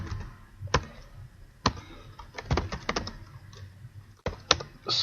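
Computer keyboard keys clicking out a SQL query, irregular close taps and short bursts of keystrokes with gaps, fairly quiet and without talk.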